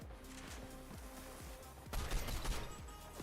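Rapid gunfire in a video game shootout, a rhythmic burst of repeated shots followed by a denser, louder volley of overlapping fire.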